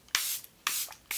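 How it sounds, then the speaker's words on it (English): Charlotte Tilbury setting spray hisses onto a face in three short, close bursts spaced evenly apart, with quiet pauses between them and no talking. "Then I'm gonna set my makeup in place with Charlotte Tilbury setting spray."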